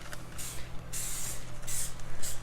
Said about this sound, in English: And just a little spray like that.